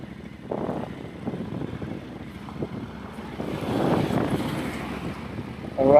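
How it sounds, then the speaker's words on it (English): Strong headwind roars and buffets the microphone during a motorcycle ride in Tasmania, a steady broadband rush of wind noise that swells near the end, with no talking. "It's gonna be noisy and very windy"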